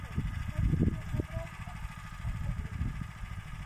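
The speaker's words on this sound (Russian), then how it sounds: "трактор даже с пробуксовкой идет" A tractor digs potatoes in soft, fertilized garden soil with its wheels slipping. Its engine makes a low, steady, throbbing rumble nearby, and a person's voice can be heard over the machine.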